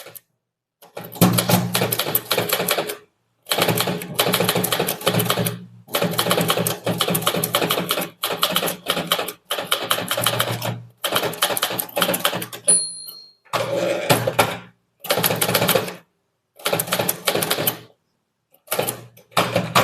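An English typewriter clatters through rapid bursts of keystrokes with brief pauses between lines, loud and close, with a small bell ding partway through.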